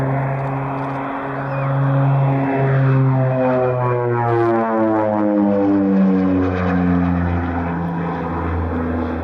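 A propeller aircraft drones overhead, loud and steady with a shifting engine pitch as it passes, continuous throughout with no voices.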